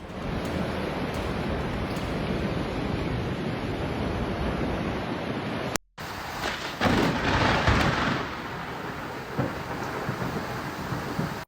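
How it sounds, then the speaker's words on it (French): Violent storm gusts roar through Hamilton, Montana, as large trees are uprooted: a loud, continuous rush of wind and rain noise that cuts out briefly before surging again. "une scène terrifiante lorsque de violentes rafales de tempête ont déraciné plusieurs grands arbres à Hamilton dans le Montana"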